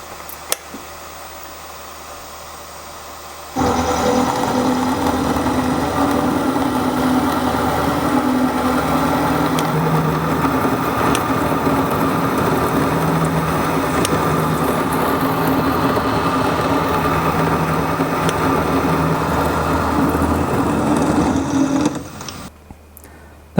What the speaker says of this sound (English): I'm going to run it probably about 600 RPM, which is medium slow for an end mill this size.